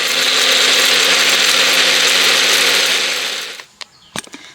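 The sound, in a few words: grinder blending dried tomatoes into powder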